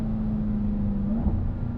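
A 2021 Dodge Durango SRT Hellcat's supercharged engine drones loudly and steadily at speed on a race track, with a continuous whine riding over the close engine rumble.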